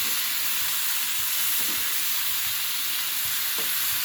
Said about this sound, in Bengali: এখন সবজিগুলো একটু ভেজে নেবো ভালো করে